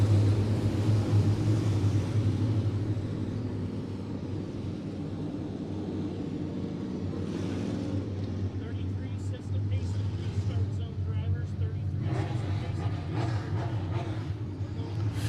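Midwest Modified race cars on the Monett Motor Speedway track during a heat race make a constant, distant engine drone that rises slightly toward the end, under an announcer's talk.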